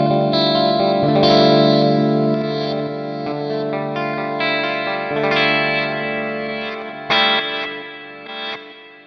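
Mooer GTRS M800 electric guitar on a clean tone, played across three pickup positions: ringing strummed chords and single notes with effects-unit shimmer, fairly loud and close, no talking.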